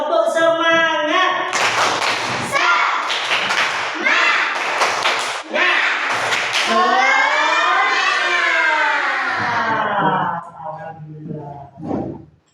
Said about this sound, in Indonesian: mari kita bersama-sama untuk tepuk semangat terlebih dahulu